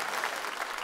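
A stand-up comedy audience bursts into a brief, dense round of applause, steady and fairly close.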